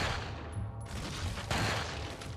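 Rapid gunfire in the video game Resident Evil 4 (PS4), a dense burst of close, loud shots that sounds like a fusillade and fills the whole moment.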